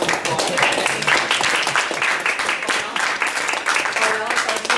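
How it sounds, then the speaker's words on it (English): An audience at a Table Topics meeting bursts into steady, dense clapping that carries on continuously at close range. "give a warm round of applause"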